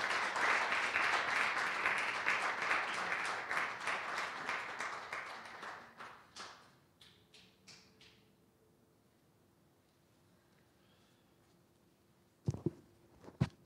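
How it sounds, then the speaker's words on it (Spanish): A church congregation applauds at a service, dense clapping that thins out over several seconds into a few scattered claps, then near quiet with a faint hum, before a brief burst of knocks and movement near the end. "Dele un aplauso fuerte al Señor."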